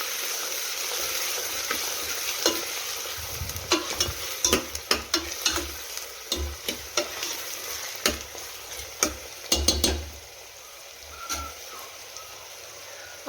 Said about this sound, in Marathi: आता टाकून घेऊया चिरून घेतलेला कांदा। मिक्स करून घेऊया।